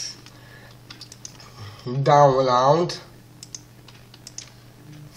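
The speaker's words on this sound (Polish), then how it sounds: "w przeglądarce piszemy Roblox Download Free" Quick clicks on a computer keyboard while someone types into a web browser, faint scattered keystrokes around a short stretch of speech in Polish.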